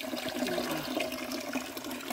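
Clear, cold stream water flowing steadily with a close, continuous bubbling rush and small splashes, no voices over it.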